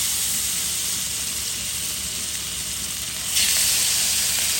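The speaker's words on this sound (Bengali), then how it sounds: "মাছটা হালকা ভেজে নিব" Loud, continuous sizzling of hilsa fish frying in hot oil, growing a little stronger toward the end.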